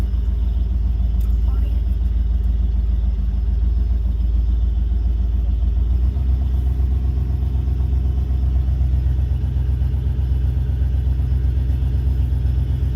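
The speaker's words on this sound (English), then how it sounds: "10-year-old kid riding around in a 1978 Dodge RAMCHARGER with a big block" A big-block 1978 Dodge Ramcharger rumbles steadily and loudly up close as it pulls away, its low engine drone constant throughout with a slight shift midway.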